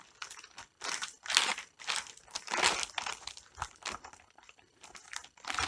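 A lockable polythene bag holding a pad from a Lifelong LLM18 air pressure massager crinkles in repeated sharp bursts of plastic rustling, close up and loud, with no talking.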